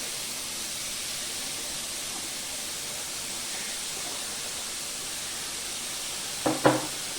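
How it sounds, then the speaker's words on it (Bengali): Grated coconut mixed with sugar fries slowly over low gas in a kadai, giving a soft, steady sizzle that runs evenly throughout, with a brief clatter near the end. "গ্যাসটা কম করে আস্তে আস্তে ভাজবো"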